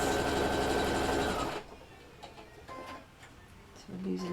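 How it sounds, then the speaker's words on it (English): A domestic sewing machine stitches fabric for a scalloped noticeboard, running loud and steady with a dense rapid whirr for about a second and a half before stopping, followed by quiet handling clicks and rustles. "I'm sewing this one in place."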